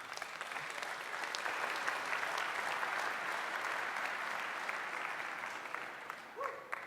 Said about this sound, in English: give a round of applause for Salvador Mendoza